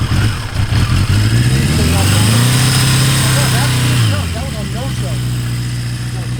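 A 1982 Yamaha Maxim 650 motorcycle engine running just after starting, a loud, close mid-pitched rumble that swells with a rev, then settles into a lower, steady idle.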